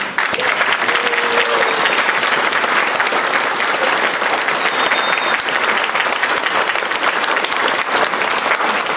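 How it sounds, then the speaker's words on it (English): Dense, sustained applause from a large crowd at a state proclamation re-enactment, loud and continuous for about nine seconds with no break, and a faint voice or whistle briefly showing through. "A huge round of applause to you."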